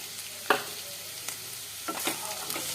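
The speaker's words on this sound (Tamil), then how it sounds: "வெங்காயம் ரெண்டு மூணு நிமிஷம் நான் வந்து தொடர்ந்து வதக்கியிருக்கேன்" Onions and green peas being sautéed in a pan for hotel-style tomato rice: a quiet, steady low sizzle with a sharp scrape of a spoon stirring near the start and a few softer stirring scrapes later.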